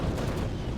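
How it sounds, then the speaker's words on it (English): Mine-clearing weapon explosions in the war strategy game WARNO, a dull rumbling roar of blasts heard at a distance, low and steady for under a second with no clear separate hits. "You can see the explosions of all of those mine-clearing weapons on the ground there."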